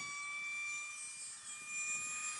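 A small Eachine Mini F22 Raptor toy RC plane flies past, its tiny electric motor giving a thin, steady high-pitched whine that swells slightly as it comes around, heard alone.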